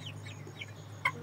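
Chickens clucking softly in a coop at night, with a few faint, scattered clucks over a steady low hum and a brief sharper call near the end.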